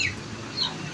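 An Aseel rooster gives a short, close cluck with a high, bright call, heard alone with no talking.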